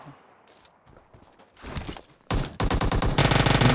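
Bursts of rapid automatic gunfire in PUBG Mobile on the snowy Vikendi map: quiet at first, then loud, dense volleys that grow heavier and run continuously to the end.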